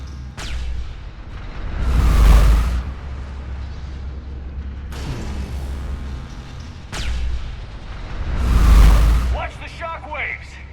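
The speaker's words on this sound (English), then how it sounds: "That's a big gun!" A huge cannon-like gun booms twice in Mass Effect 3, each blast a deep, swelling rumble several seconds apart over constant low battlefield drone, with a voice talking between shots.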